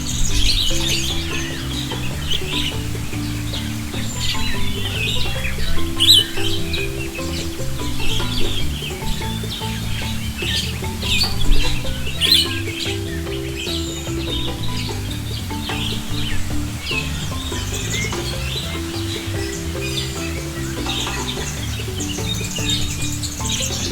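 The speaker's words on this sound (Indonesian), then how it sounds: "kita intip yuk aktivitas jalak perling" Jalak perling starlings chirping and calling in an aviary, busy overlapping bird calls with repeated melodic phrases, fairly close and continuous.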